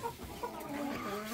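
A young chicken clucks softly with a few brief calls over a steady background hum, fairly close and fairly quiet, with no voices.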